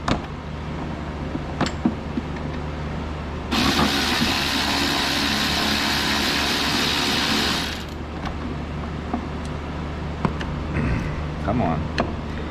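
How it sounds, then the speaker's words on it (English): A ratchet works on the drive belt tensioner pulley of a 1999 Jeep Wrangler, with scattered clicks and knocks and a burst of broadband hiss for several seconds in the middle; a voice is heard talking at times. "I'm going to go ahead and remove this tensioner pulley"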